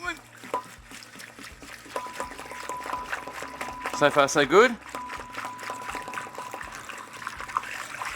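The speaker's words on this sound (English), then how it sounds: "Oh, look at that, we're pouring." Beer pours out of a 20-litre homebrew container in a wet trickle that swells to a gush midway, while someone talks over it throughout.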